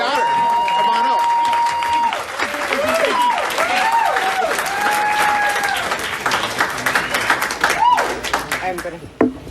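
Audience applause at a furry convention roast on a stage dais, a steady loud wash of clapping lasting the whole stretch while a voice calls out over it, thinning into scattered claps near the end.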